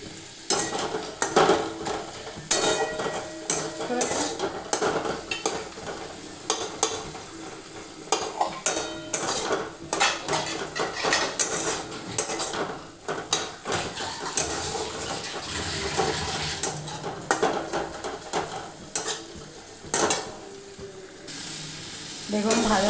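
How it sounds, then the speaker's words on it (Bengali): A spoon stirs and scrapes spices (turmeric, salt, Kashmiri chilli powder) frying in a pan, with repeated clinks and scrapes over a constant sizzle. "এবারে সবগুলো মিশিয়ে ভালো করে ভাজবো।"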